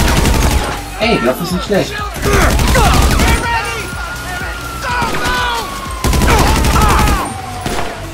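Special carbine gunfire in GTA Online, repeated loud automatic bursts with booming impacts, in fast clusters while someone talks over the shooting.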